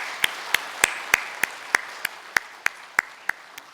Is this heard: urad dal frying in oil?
no